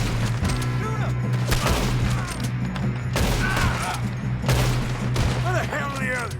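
Gunfire during a Red Dead Redemption 2 shootout: repeated loud shots and booms crack throughout, with shouted voices and game sounds mixed underneath.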